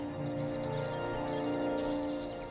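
A field cricket chirps steadily in rhythmic pulsed bursts, close and fairly faint, with no voices.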